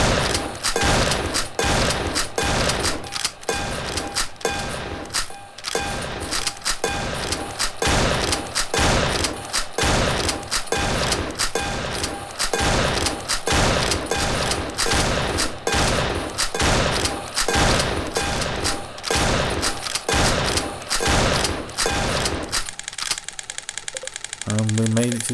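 Rapid bursts of gunfire from a zombie gun game in the VR title Pierhead Arcade 2, shots fired in a fast regular rhythm with brief gaps, loud and close, stopping just before the end.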